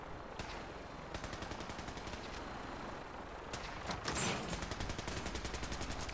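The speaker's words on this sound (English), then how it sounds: "These guys are going to shoot at the vertibird." Gunfire in the video game Fallout 4 at Fort Strong: repeated rapid bursts of automatic fire with scattered single shots, fairly quiet and distant, continuing steadily for several seconds.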